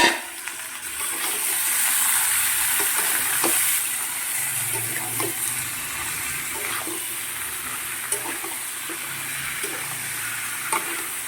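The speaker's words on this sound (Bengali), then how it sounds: "এবার আমি চিকেনগুলো দিয়ে দিচ্ছি" Chicken pieces fry in a pan over onions already browned, giving a continuous near sizzle with occasional sharp taps and scraping as the contents are stirred.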